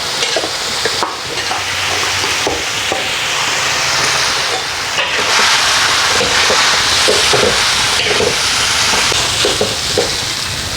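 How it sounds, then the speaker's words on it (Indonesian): Cooked rice is stirred and fried in a hot pan for fried rice, a loud continuous sizzle with repeated scraping strokes of the utensil, close up. "Masukkan nasi gorengnya."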